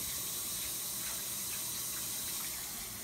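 Water rushing steadily inside a washing machine during its rinse cycle, a continuous even gushing hiss with no pauses or voices.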